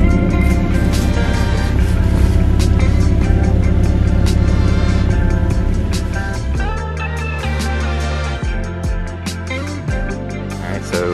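A 1987 Toyota 4Runner's 22RE four-cylinder engine, running smoothly after an injector fix, hums at a steady, even note up close, with the tone shifting and easing partway through, no talking.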